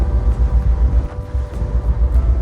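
A boat engine drones low and steady during a boat trip off Senja in Norway, a continuous throbbing rumble with faint wind buffeting the microphone and no voices.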